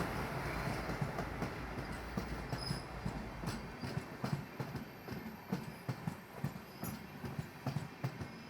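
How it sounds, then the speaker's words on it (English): Matsaganda Express passenger train overtaking on the Mangaluru–Mumbai line, heard as a loud close rumble with rhythmic clickety-clack of wheels over rail joints and a brief horn-like tone. "Here comes the Matsaganda Express"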